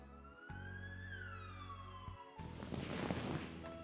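An ambulance siren wails up and down, loud and near, then gives way to a rougher, rushing burst of noise.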